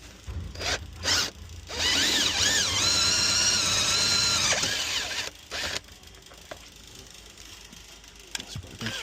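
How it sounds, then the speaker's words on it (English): A power drill whines in a sustained, close burst while working on a wake boat engine with a broken spark plug, preceded and followed by shorter bursts and handling noises. "Continue drilling."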